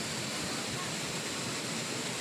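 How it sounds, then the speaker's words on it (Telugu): Artificial waterfall on an exhibition set near RK Beach in Vizag, with motor-pumped water sliding down a mock hillside, gives a steady, soft broadband rush that stays even throughout, faint and with no distinct events. "అది కనిపిస్తుంది జలపాతం. కొండ మీద నుంచి నీరు జారుతున్నట్టు మోటార్లు పెట్టి నీళ్ళు వేసి సెట్ వేసారంట"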